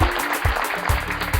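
Audience applause at a celebratory ceremony with guests, a broad steady wash of clapping filling the short moment, with low thumps underneath.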